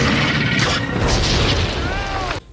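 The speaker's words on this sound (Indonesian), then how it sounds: "buaya itu pun ditembak oleh Hank sampai meledak." A shot crocodile explodes in a film scene with a loud, sustained boom and crashing burst that fills the whole stretch, then cuts off sharply at the end, with a falling tonal whine just before the cutoff.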